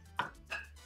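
A knife punches twice into a can of evaporated milk, two sharp close metallic stabs a third of a second apart in a quiet kitchen.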